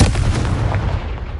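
A Confringo blasting spell from the Hogwarts Legacy video game goes off as a loud, dense burst of booming, crackling noise. It stays heavy and sustained for the whole moment and ends in a rumbling tail.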